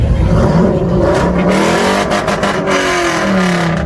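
A drag racing truck revs hard at the start line at a redneck racing event, its engine roaring loud and close in sustained, rising and falling bursts with no break, and no voices over it.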